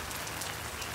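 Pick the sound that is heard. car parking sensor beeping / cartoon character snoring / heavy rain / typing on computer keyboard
heavy rain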